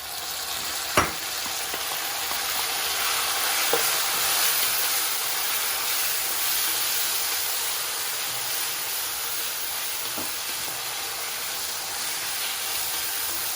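Tomato sizzling in a paella pan with chicken, onion and garlic, a steady bright hiss of frying close by with a few faint clicks of a utensil.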